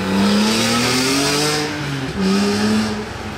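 A car engine revs hard through its exhaust line, loud and close, with two sustained rising pulls separated by a brief dip, and no voices.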